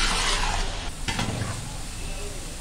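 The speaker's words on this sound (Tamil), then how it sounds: "இப்போ வெங்காயம் வந்து நல்லா பொன்னிறமாக வர அளவுக்கு நல்லா வதக்கி விட்டுக்கலாம்." Onions sauté and are stirred in a pan until golden for a large batch of kuska, a dense, loud, continuous sizzle with scraping stir strokes, heard close up without talk.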